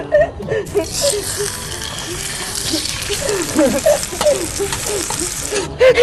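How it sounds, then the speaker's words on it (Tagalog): Three hotdogs fry in a pan outdoors in the hot sun, giving a steady sizzle with stirring scrapes throughout, while people talk and laugh over it. "Maglalagay ako ng tatlong hotdog!"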